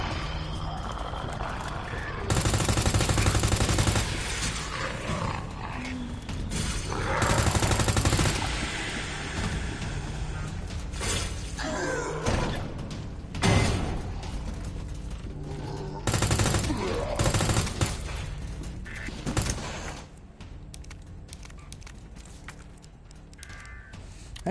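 Gunfire in the video game Resident Evil 2, loud bursts of rapid shots in clusters with brief pauses, fading toward the end.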